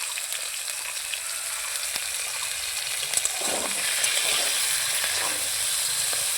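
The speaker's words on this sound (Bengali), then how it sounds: "এখন ভালোভাবে আলুগুলোকে ভেজে নেব।" Potatoes frying in a pan with turmeric, salt and slit green chillies, a steady, close hiss and crackle of oil with occasional stirring scrapes, no talk.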